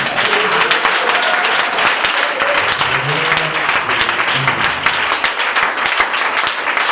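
A church congregation at a wedding dinner service breaks into sustained applause and acclamation, a dense, steady wash of many hands clapping with some voices mixed in, loud and continuous throughout.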